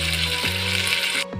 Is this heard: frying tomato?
yes